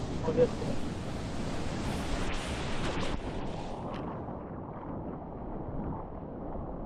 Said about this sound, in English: I had no idea that there are huge waves in Thailand